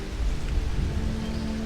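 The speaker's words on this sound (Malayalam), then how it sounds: "മലയുടെ മുകളിൽ ഇന്നലെ രാവിലെ തുടങ്ങിയ മഴയാണ്. ഇതുവരെയും നിന്നിട്ടില്ല." Heavy rain poured as a sound effect in a church stage drama: a dense, steady hiss of falling water with a low rumble beneath and no voices.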